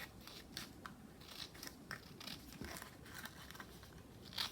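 Scissors snip by hand along the paper edges of postage stamps in a quiet craft setting, a steady run of small close crisp cuts with light paper crinkle and no talk.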